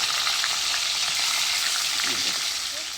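Pieces of Bhola fish fry in oil in a pan, giving a steady close sizzle with faint stirring scrapes, fading slightly toward the end, no voices.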